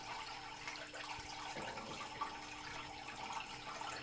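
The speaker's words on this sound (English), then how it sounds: "So all I did to get this siphon going was just to suck the end of the" Water flowing steadily through an aquarium siphon tube into a container during a small-tank water change, a soft continuous trickle and gurgle at low level.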